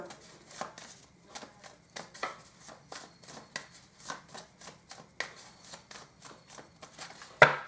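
Oracle cards being shuffled by hand, a quiet series of soft rhythmic riffling slaps repeating steadily, ending with one sharper knock.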